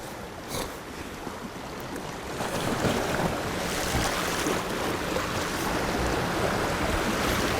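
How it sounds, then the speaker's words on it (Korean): Strong wind gusting over seaside rocks during rock fishing, a broad steady roar with surf and wind buffeting the microphone, building louder after the first few seconds and holding close and continuous. "지금과 같이 지금 이렇게 바람이 많이 불때"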